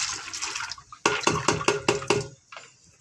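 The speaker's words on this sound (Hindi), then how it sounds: "कुछ पानी मैंने पतीली में डाल लिया।" Water is poured into a cooking pot in a home kitchen, with a splashing rush at first, then a quick series of distinct sloshing gushes, tapering off, close and fairly loud.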